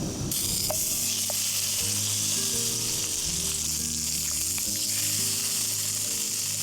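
Spam sizzles and fries steadily in a pan on a camping stove on a mountain summit, a loud continuous crackle with the low roar of the stove beneath, no voices.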